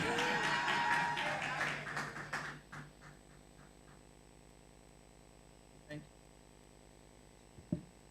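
Conference audience applause at a wealth summit, a burst of clapping that fades out within about three seconds, followed by quiet room tone and a couple of faint isolated taps.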